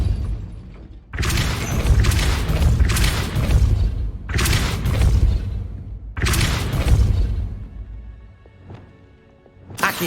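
Depulso force-push spell in the Hogwarts Legacy video game, three loud booming blasts with crashing, shattering debris, each burst lasting over a second and separated by short gaps, then a fading rumble.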